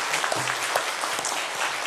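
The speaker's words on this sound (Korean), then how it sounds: "한 해를 순탄하게 인도하신 하나님께 영광 박수 한번 돌립니다" A church congregation gives a short burst of dense clapping at a year-end worship service, steady and fairly close.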